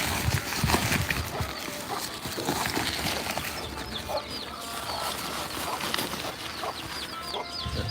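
Hens and chicks on a goat farm cluck and cheep while feed is scattered for them, with busy pecking and shuffling close by and steady overlapping calls throughout.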